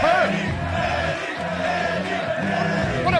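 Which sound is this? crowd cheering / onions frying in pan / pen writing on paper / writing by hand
crowd cheering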